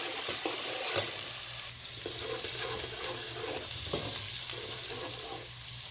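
Whole spices fry in oil for chana dal pulao, a continuous soft sizzle broken by occasional spoon scrapes and stirring knocks against the pot.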